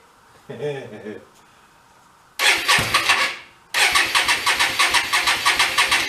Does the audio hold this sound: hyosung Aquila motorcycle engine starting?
yes